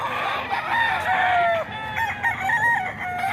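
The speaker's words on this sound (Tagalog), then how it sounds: "Nakakalula sa manok." A crowded flock of chickens clucks loudly and continuously, with overlapping rooster crows rising above the chatter.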